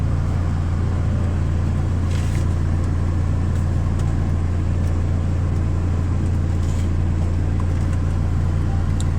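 A Peugeot 407's air-conditioning fan blowing inside the car with the engine running, a steady, loud broadband whoosh over a constant low engine hum, no talking.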